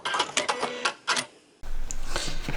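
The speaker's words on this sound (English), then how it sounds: "I'm going to reverse my stitches a few times" Sewing machine stitching a bag, first a series of rapid mechanical bursts as stitches are reversed, then a steady continuous whirring run of the motor, close and fairly loud.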